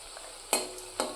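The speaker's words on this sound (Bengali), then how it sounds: "এই যে এখন সন্ধ্যাবেলায় বানাচ্ছি বাঁধাকপির পকোড়া" Cabbage pakoras fry in hot oil, a soft continuous sizzle broken by two sharper splashy bursts, close and fairly quiet, with no talking.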